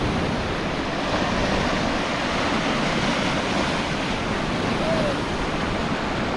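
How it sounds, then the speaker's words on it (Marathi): Sea waves wash onto the beach at Harihareshwar in a constant, fairly loud surf roar with some wind buffeting the microphone. "समोर समुद्र बघा मित्रांनो, आणि तसंच बीच आहे समोर लागून"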